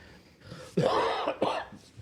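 Two sharp, close coughs in quick succession, the second slightly shorter, against a quiet background.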